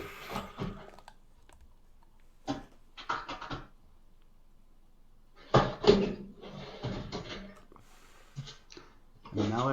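Drawers in a vape workshop are pulled open and pushed shut several times, giving a few separate knocks and slides at close range, with talk continuing between them.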